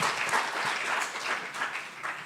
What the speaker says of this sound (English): Everybody applaud for both of them.